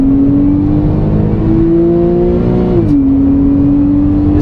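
A new Porsche 911 with PDK transmission in Sport Plus mode accelerates hard with a loud rising engine drone, then a sharp upshift drops the pitch before it climbs again, heard from inside the car.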